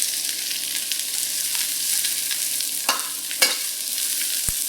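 Onions and chilies fry in hot oil for a Chinese mussel stir-fry, giving a loud, continuous sizzle with a few sharp spatula scrapes and a metallic tap near the end.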